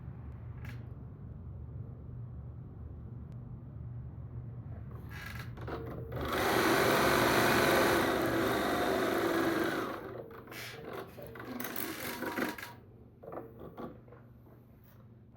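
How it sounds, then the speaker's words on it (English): A sewing machine stitches fabric in one loud burst of a few seconds, with quieter handling and rubbing before and after. "Okay, so we're going to go ahead and sew this."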